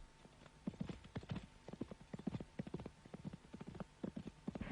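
Horses walk about a stud yard where a stallion greets mares and foals, hooves clopping in an uneven, fairly close rhythm at low level, with a faint snort or whinny among the steps.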